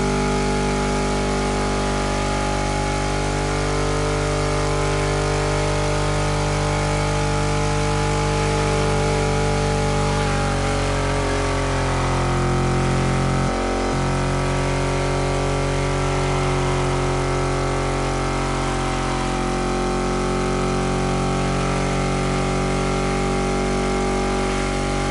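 An upgraded car engine in the racing game The Crew Motorfest drones steadily at a low idle, its pitch wavering and dipping briefly midway, loud and continuous with no voices.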